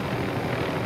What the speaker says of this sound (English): there's another helicopter airborne